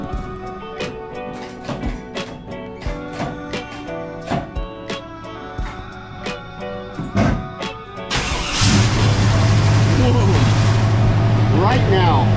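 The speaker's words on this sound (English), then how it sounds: "That is a real cold start." A 1966 Chevrolet Impala SS with Flowmaster exhausts fires up from cold after a stretch of talk, catching with a burst and settling into a loud, steady rumbling idle close by.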